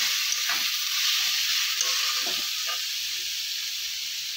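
Chopped whole tomatoes fry in a pan for a Bengali aloo potol kosha, giving a steady, close sizzle and hiss with a few soft stirring scrapes and no voices.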